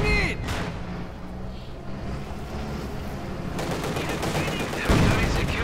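Tank cannon and small-arms gunfire in the World War II strategy game Company of Heroes 2, a steady barrage of battlefield booms with a loud blast near the end, mixed with faint game voice lines.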